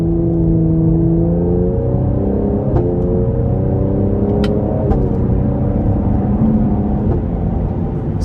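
A 2024 Cadillac CT5-V with a twin-turbo V6 accelerates in manual mode under moderate throttle, its steady engine drone rising in pitch through the gears, heard from inside the cabin with constant road rumble and a few faint clicks.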